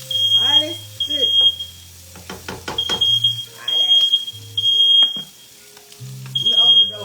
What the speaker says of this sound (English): We know the damn it smoke detectors work at this